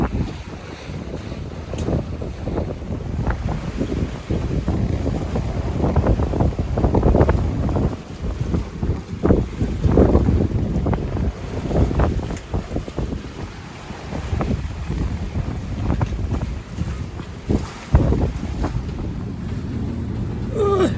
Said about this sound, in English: The waves keep splashing up and hitting me.